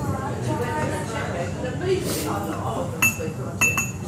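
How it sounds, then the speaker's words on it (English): Coffee shop ambience with glasses and dishes clinking: a steady murmur of voices fills the room while light clinks and bright rings of glassware and crockery ring out near the end, a few close, sharp chimes over the crowd noise. "Now here I have got a field recording of a coffee shop"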